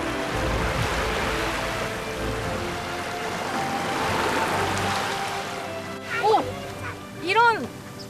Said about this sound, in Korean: 부드러운 바람과 산호초 부딪히는 파도 소리만이 절벽 사이 조그맣게 자리한